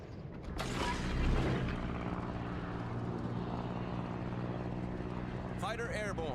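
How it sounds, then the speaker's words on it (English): Aircraft engine drone and mechanical creaking from a fighter plane launching off a ship in World of Warships, steady and loud, with a brief warbling tone near the end. "Fighter airborne."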